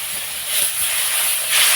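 Water splashes into a hot pan of fried spices with turmeric and chili powder, erupting into a loud, steady steam hiss that swells near the end, with no voices.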